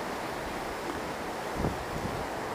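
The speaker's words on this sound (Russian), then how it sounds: "Вы просто посмотрите, какие волны." Ocean waves rolling in at Huanchaco beach on the Peruvian coast, a steady broadband wash of surf blended with wind noise, with one slightly louder surge partway through; no talking.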